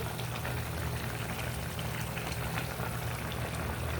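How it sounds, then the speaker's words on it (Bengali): Fish go into a curry at a rolling boil, and the dense, continuous bubbling stays close and steady throughout with no voices. "এখন আমি মাছগুলা তরকারিতে ঢেলে দেব"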